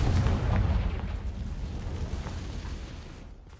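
The Confringo explosion spell in Hogwarts Legacy sets off a loud, rumbling blast that starts strong and slowly fades over a few seconds, with no voices heard.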